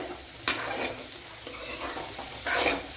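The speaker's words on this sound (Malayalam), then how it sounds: "ഇഞ്ചി വെളുത്തുള്ളി ഇട്ട് കൊടുക്കുക ഒരു അഞ്ചാറ് വെളുത്തുള്ളി എടുത്തിട്ടുണ്ട്" Garlic cloves and a small piece of ginger hit a hot pan of cooked tomato for a Kerala bitter gourd curry, a sharp sizzle burst followed by scraping stirs and another flare of frying near the end.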